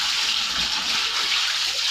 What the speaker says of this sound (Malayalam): നമ്മൾ വെള്ളം ഒഴിച്ച് കൊടുത്തിട്ടുണ്ട്.